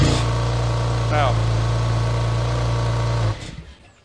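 A Porsche 991 GT2 RS rumbles loudly with its exhaust valve open, a deep steady drone that cuts off near the end, while people talk over it.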